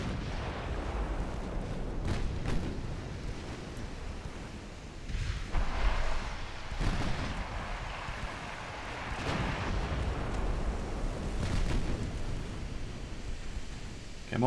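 Naval 6-inch guns fire in a World War I era naval battle video game, heard as several heavy booming blasts scattered across a continuous rumbling background of sea and battle noise.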